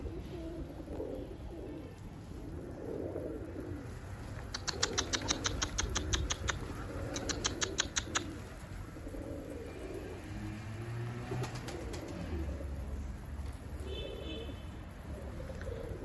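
Tumbler pigeons coo in low, soft murmurs mixed with quick fluttering patters, moderately close among a flock, over a steady background hum.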